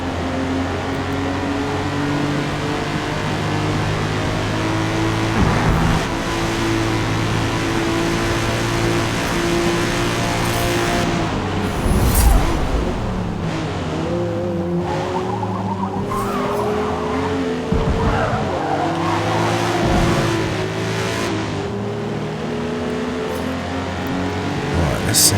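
A racing car in the Forza Motorsport video game roars loudly and continuously through gear changes, its tires squealing and skidding through corners as the engine pitch rises and falls over a long stretch.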